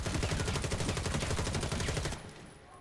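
Rapid automatic gunfire from a gun in the video game Warface, a loud, dense burst of repeating shots that cuts off abruptly near the end, leaving a faint tail.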